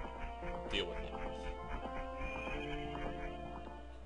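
A horse in the video game The Legend of Zelda: Master Quest whinnies several times over hoof clip-clops and looping game music, with a voice speaking softly in the background.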